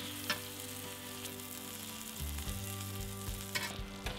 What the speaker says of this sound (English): Continue to spoon the butter onto the lamb until it's fully coated.